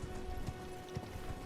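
Horse galloping in Elden Ring, a quick rhythm of soft hoofbeats over a steady background hum, heard alone in a short burst.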